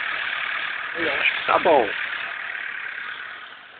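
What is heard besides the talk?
car engine idling smoothly after tuning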